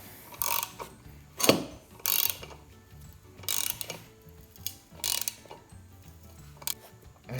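A large Harbor Freight exhaust pipe expander is tightened with a ratchet, giving several separate bursts of rapid metallic clicking about every second and a half, close up and with no voices.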